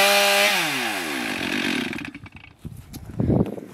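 A chainsaw roars and its engine pitch drops as it bogs down limbing a tree branch, followed by creaking and cracking wood.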